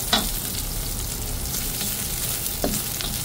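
Vegetables and pork sautéing for pinakbet in a hot pan, a steady close sizzle and crackle throughout, with a couple of sharp stirring clinks against the pan.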